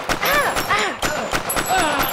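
Bursts of video game gunfire in Crisis Brigade, rapid repeated shots with sweeping whistling tones, loud and close, mixed with game effects over about two seconds.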